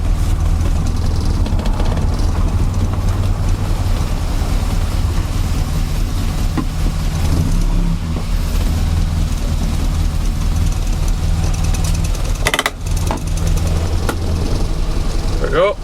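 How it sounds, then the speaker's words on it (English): Morris Minor engine running steadily at a low, continuous rumble throughout, with a brief clunk near the end and a voice speaking over it. "Listen to the engine"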